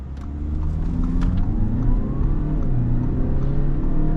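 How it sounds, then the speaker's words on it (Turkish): An Audi RS7 in sport mode with ESP off and a manual-shift gearbox launches hard in a 0-100 run, its engine a loud, steady droning roar heard from inside the car without speech. "Audi A7 0'dan 100'e kaç saniyede hızlanacak?"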